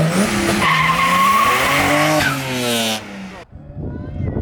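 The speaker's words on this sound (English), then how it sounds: "One wheel peel." A car doing a one-wheel peel, with one tire squealing loudly and continuously under a roaring, revving engine that fades away near the end.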